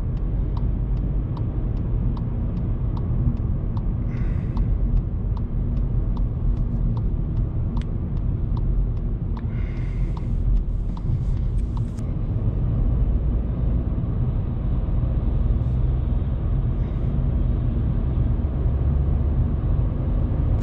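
A 2019 Volkswagen Polo 1.0 TSI driving in fourth gear near 3000 RPM at about 80 km/h gives a steady, loud, low engine drone and road rumble inside the cabin, with faint ticking and no talking.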